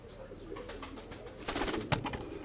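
Pigeons coo softly and flutter nearby, with a louder burst of wing flapping and rustling partway through, over a low room hum.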